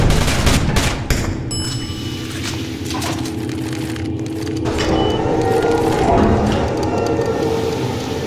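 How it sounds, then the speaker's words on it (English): Rapid gunfire in the Roblox game SCP rBreach+, dense bursts of shots layered over a continuous loud rumble of game noise with no pauses. "You're firing at allies!"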